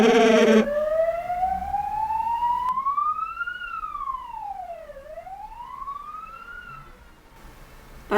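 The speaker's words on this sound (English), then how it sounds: "That siren's definitely for me." A police siren wails up and down in a long sweeping tone, fairly close and steady, with no voices over it.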